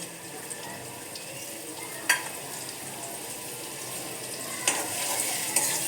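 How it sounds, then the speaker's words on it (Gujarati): Asafoetida and ginger-chilli-garlic paste sizzling in hot oil while cooking veg paneer, a quiet steady hiss with a few sharp clinks of a utensil against the pan, no voices. "તેલ ગરમ થઈ ગયું છે। હવે તેમાં હિંગ નાખીશું, આદુ મરચાં લસણની પેસ્ટ ઉમેરીશું"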